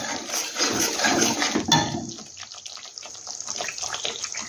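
Water pours from a bowl into a cooking pot while bottle gourd is being cooked, a splashing gush for about two seconds that then settles to quieter trickling and bubbling.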